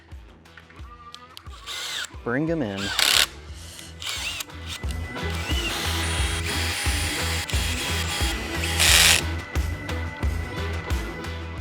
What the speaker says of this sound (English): now that I've got all the crossbars connected and hand tightened, I'm gonna take my drill again and fully